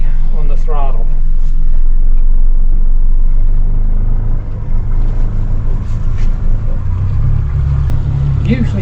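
A 2021 Parker 2120 boat's engine idles and is eased forward on low throttle, a steady low rumble with water noise close by, while someone talks over it at the start and end.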